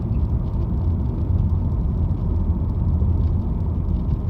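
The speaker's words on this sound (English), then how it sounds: "It takes less than a second for it to bring the revs up" A 2018 Subaru Impreza engine revs up from inside the car, a steady low rumble held loud and even throughout with no talk.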